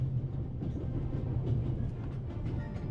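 A train in The Raven Remastered rattles along steadily, with a dense low rumble and continuous clattering that stays even and close throughout.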